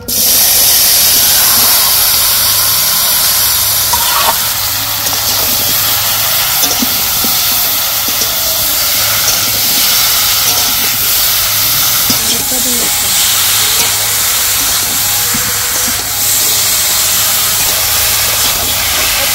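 Okra and fish sizzle in hot oil in a wok. A loud, steady hiss of frying runs throughout, with faint clatter and a voice now and then beneath it.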